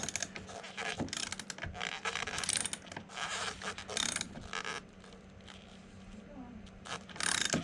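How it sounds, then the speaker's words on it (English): Tie-down plate bolts on a full-height teardrop camper get their final tightening with a ratchet wrench: dense mechanical clicking and grinding bursts under workshop noise, with people talking nearby. "do the final tightening with the wrench."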